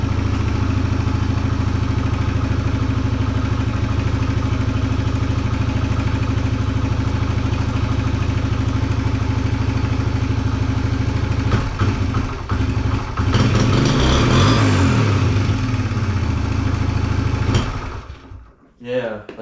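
A 2021 Suzuki DRZ 125 dirt bike with an Amazon replacement carburetor idles with a steady, loud single-cylinder drone, briefly revs and clatters near the end, then cuts out as the engine shuts off.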